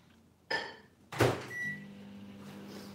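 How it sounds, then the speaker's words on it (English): A microwave oven in a home kitchen: a door shuts with a thunk, buttons beep, then the oven starts its low steady hum, close by. "So I'm just gonna quickly put this in a microwave just for a few seconds."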